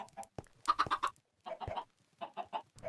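Baby chicken in a video game, a short series of clucks and chirpy calls in two or three quick bursts separated by silence, close and clear.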